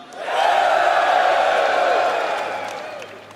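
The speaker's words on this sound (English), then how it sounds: "being able to just do some call and response with the crowd is probably it" A large convention crowd at CitizenCon roars in a call-and-response cheer, one sustained loud swell of many voices that rises quickly, holds, then fades away.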